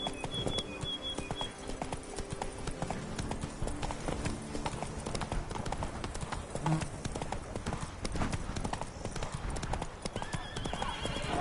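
Roach the horse gallops in The Witcher 3: Blood and Wine, with steady, close hoofbeats drumming continuously alongside a whinny and a busy game soundscape.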